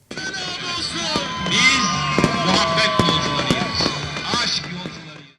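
Fireworks crackle and pop through a loud, dense outdoor din in a Samsun town square during an election-night celebration, with a crowd cheering and shouting throughout.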